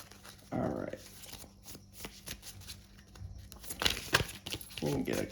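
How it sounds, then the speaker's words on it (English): Tarot cards shuffled by hand in a reading, a close riffling and flicking of the deck in several quick bursts, with a voice talking in between. "These cards, see, my first shuffles usually like this"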